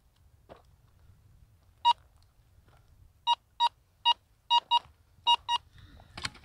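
A Minelab Go Find 11 metal detector sounds a few sharp electronic beeps, first single and spaced, then in quick pairs, clear against a quiet background.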